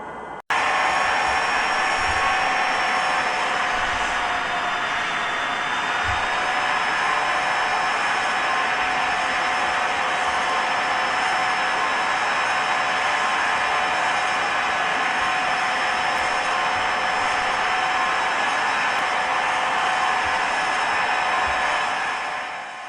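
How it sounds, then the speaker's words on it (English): Steady, loud broadband roar of Boeing 767 jet engines on landing approach to London Heathrow in a flight simulator game, a continuous high whine layered over the rumble, constant and unbroken throughout. "This Boeing 767 is now on approach for landing at London Heathrow International Airport."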